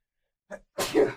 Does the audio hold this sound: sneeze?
yes